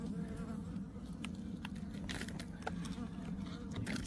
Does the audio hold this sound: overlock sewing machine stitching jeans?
no